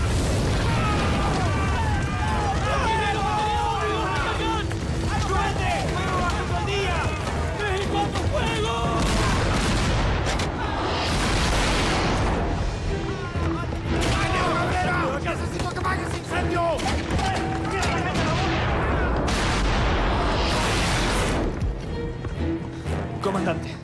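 Cannon fire in a naval battle, rendered as a film sound effect: repeated heavy booms and bursts rising over shouting voices and commotion, loud and close, with several blasts clustered across the scene.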